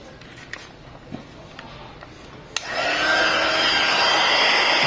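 A heat gun blows steadily close by along the edge of an iPhone 5 frame during a front glass replacement, a loud continuous airy roar that kicks in after a few soft clicks and holds to the end.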